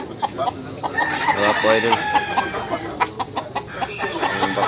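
Tazmanian hennie gamefowl cluck and crow close by at Tabunok, Cebu, sharp repeated calls over a busy background, while someone talks briefly among them.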